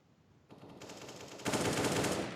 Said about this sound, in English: It must be the luckiest shot I've ever seen.